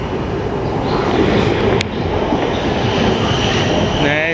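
A South Western Railway Class 450 electric train passes through Guildford with a loud, steady rumble and roar that stays strong throughout.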